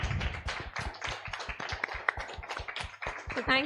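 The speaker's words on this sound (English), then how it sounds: "Give them a big round of applause." Audience clapping at the close of a national medical quiz event, a steady run of sharp hand claps through the whole stretch. A voice briefly comes in near the end.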